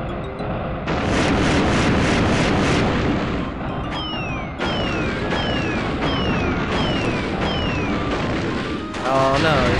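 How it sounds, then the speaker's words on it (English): A boss in Donkey Kong 64 fires a missile, a heavy booming blast followed by rapid descending whistling zaps repeating in a steady run, loud and layered over game music. "Oh no, he's firing a missile."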